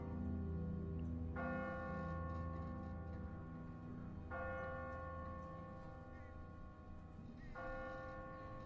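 A church bell tolls in The Walking Dead video game, three resonant strikes spaced evenly several seconds apart, each ringing out over a steady low background rumble.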